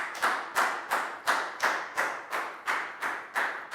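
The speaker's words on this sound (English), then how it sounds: "Big round of applause for Dan" Schoolchildren in a Year 4 classroom clap for a classmate in a slow, evenly spaced rhythm, about ten distinct synchronized claps each fading quickly, fairly close and moderately loud.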